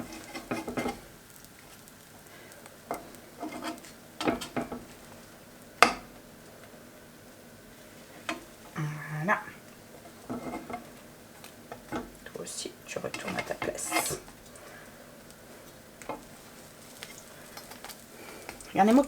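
Puffed pancakes cook in a frying pan with faint, intermittent sizzling and light stirring, scraping and utensil clinks while someone talks over it.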